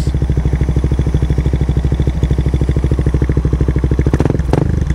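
A Suzuki Raider 150 Fi with an RL Power aftermarket exhaust pipe idles loudly with a fast, steady exhaust pulse, then is briefly revved near the end before settling back.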